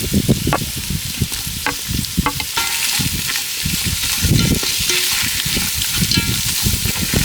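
Onions and green chillies hit hot oil in a pan and crackle loudly up close, with a dense sizzle broken by frequent stirring scrapes and spatula knocks throughout.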